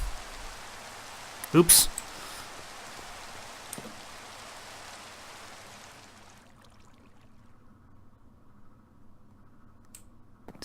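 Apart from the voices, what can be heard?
rain falling in the video game Sky Factory (Minecraft)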